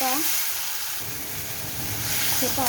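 Tomato and green chili paste sautéing in a pan, with a steady hiss and sizzle throughout, partly under a faint voice at the start and end.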